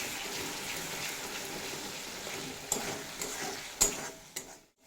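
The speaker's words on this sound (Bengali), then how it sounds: "মশলা খুব ভালোভাবে কষিয়ে নিয়েছি" Spices cooked down with a little water in a pan for a vegetarian cauliflower curry, giving a steady soft sizzle with faint stirring scrapes and a couple of sharper clinks near the end.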